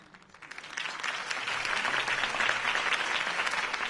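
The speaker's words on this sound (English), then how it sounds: "could have heard that applause" A crowd breaks into sustained applause after a campaign speech in the Batman Telltale Series video game, clapping swelling from quiet to a steady, dense roar of hands.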